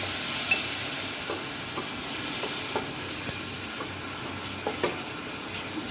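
Steady sizzling of garlic ginger paste frying in a hot pan, with light scraping and stirring clicks throughout, close up and without talking.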